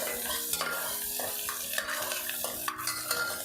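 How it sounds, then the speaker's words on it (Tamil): Vegetables sautéing in a pan for a peas kurma, with a continuous frying hiss and repeated scraping stirs and soft utensil knocks at a moderate, close level. "இது 2 நிமிஷம் நல்லா வதக்கிக்கலாம்"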